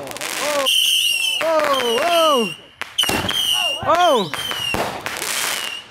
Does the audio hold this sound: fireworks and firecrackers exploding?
yes